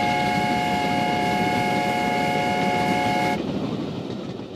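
A steam locomotive sounds a steady, sustained whistle while the train rushes past, loud and close over a dense rumbling roar. The whistle cuts off abruptly and the rumble fades away.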